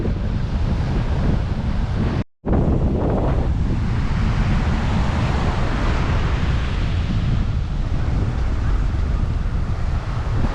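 Strong wind blowing at a beach at the end of an airport runway on Saint Barthélemy, a loud continuous roar buffeting the microphone with surf underneath, briefly cutting out once early on.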